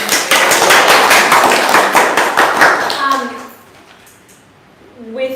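A round of audience applause after a talk at a ProductTank meetup in Brisbane, loud, close clapping for about three seconds before fading into quiet with a few scattered claps.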